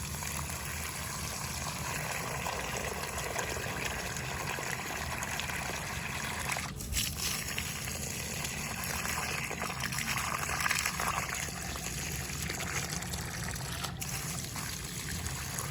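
Water poured onto garden plants makes a steady, continuous trickling and splashing close by, with no break for the whole stretch apart from a couple of brief dips.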